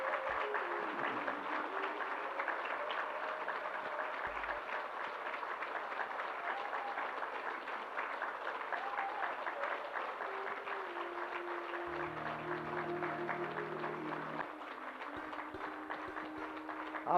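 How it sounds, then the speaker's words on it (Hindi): Faint, distant applause from an audience at a spiritual discourse, steady light clapping that continues throughout, with tonal music or sustained tones layered beneath it. "तालियां तुम बहुत बजाते हो।"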